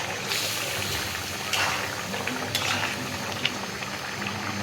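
Bottle gourd curry bubbling and simmering in a pot, a soft steady boil with faint liquid pops and hisses throughout, close by and fairly quiet, with no voices.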